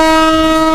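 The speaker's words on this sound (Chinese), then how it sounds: "这个警报声太刺耳了，列车开始发动了" In a horror video game set in a subway, a loud, piercing alarm blares as the train starts. It is one steady, harsh tone that holds for the whole short moment.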